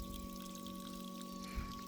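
Steady running water flowing from a 20 ft borewell pipe into a well without a motor, a continuous, even rush and a faint hum underneath, no voices.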